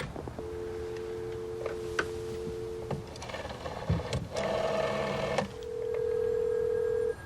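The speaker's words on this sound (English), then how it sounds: "We hear the phone ringing in the reception area, but no one answers" A telephone rings repeatedly, unanswered, at a hotel reception desk in a film scene: steady electronic ring tones in a regular pattern, broken by faint clicks and ending in one longer, louder tone, with no talk.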